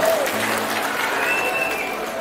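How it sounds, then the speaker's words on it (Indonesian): A crowd applauds steadily at a Bogor diocese Christmas gathering, welcoming the mayor, a dense wash of clapping that holds throughout, with a faint tone drifting above it. "Boleh berikan tepuk tangan yang meriah terburu untuk kehadiran Bapak Wali Kota kita."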